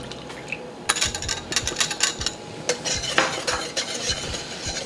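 Pot roast gravy at a gentle boil as slurry is stirred in, a spoon scraping and clinking against the pot in quick uneven strokes over a soft bubbling simmer.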